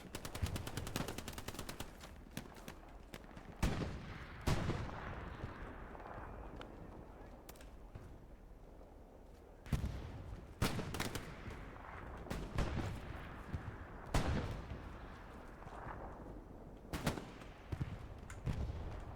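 Grenades bursting during a video game battle, with sharp heavy blasts scattered among constant rattling gunfire and artillery-like booms, some close and loud, others distant, while a commentator talks throughout.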